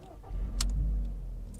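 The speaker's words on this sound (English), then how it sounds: "you can turn the ignition and start the car" A manual car's engine cranks and catches on the ignition key, a loud low rumble that swells and settles into a steady idle, with a brief bright click near the start.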